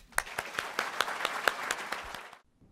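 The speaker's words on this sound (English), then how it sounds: "let's give a warm Houston, Texas applause for Mr. Jay Timmons." An audience at a manufacturing industry address in Houston, Texas applauds, individual sharp claps standing out over a dense, even patter of hands that holds steady, then cuts off abruptly near the end.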